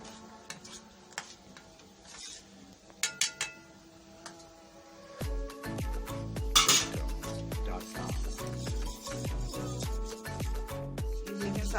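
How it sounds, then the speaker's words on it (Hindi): Spices are mixed into yogurt and cream in a bowl with a spoon, giving quiet scattered taps at first, then a run of rhythmic clinks and scrapes against the bowl, close and clear. "इसको अच्छे से मिक्स करूंगी सारे मसाले को मैं दही और क्रीम के साथ"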